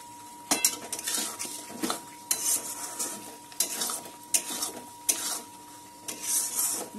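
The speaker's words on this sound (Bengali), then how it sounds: "মশলাটা ভালো করে কষিয়ে নেব" Spice paste (masala) being stirred and fried in a pan, a utensil scraping and clinking against the metal in repeated irregular strokes over a soft sizzle, close and moderately quiet.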